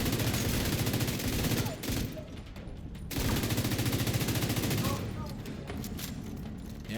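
Rapid gunfire rattles through The Division 2 during a fight in the American History Museum, sustained bursts of automatic shots that drop out briefly and then resume, while someone talks over the shooting.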